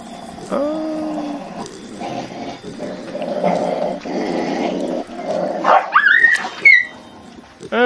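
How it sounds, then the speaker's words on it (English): A dog growls in the background of a Creativerse gameplay session, with a low, drawn-out growl near the start, a rising whine later, and a steady muddle of sound throughout at moderate level. "And of course you hear my dog growling in the background."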